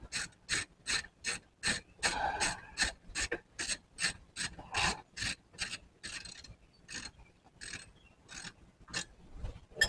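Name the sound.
ratchet wrench being used on a Firebird project car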